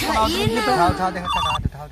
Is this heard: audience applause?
no